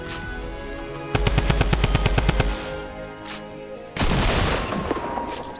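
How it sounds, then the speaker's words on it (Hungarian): Video game gunfire: a steady rapid string of about a dozen evenly spaced shots, then a quieter gap before a second, denser burst of noisy fire. "Akkor lövünk."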